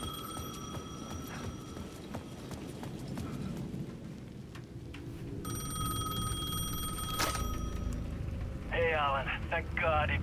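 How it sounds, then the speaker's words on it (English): A payphone at the edge of a plaza rings in the video game Alan Wake 2, its repeated electronic ring sounding over dark ambient game atmosphere, with a brief voice heard near the end. "The payphone at the edge of the plaza was ringing again."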